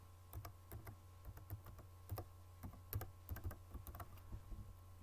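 Password being typed on a computer keyboard during a Google account sign-in, with irregular quick key clicks in bursts over a low steady hum, fairly quiet and close.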